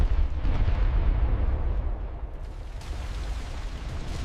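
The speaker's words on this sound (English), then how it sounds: "A massive explosion tore through the ship, creating a huge fireball." A deep, rumbling explosion on a battleship during the Pearl Harbor attack, a roaring low-end surge that slowly fades into a rolling, noisy wash, heard alone without voices.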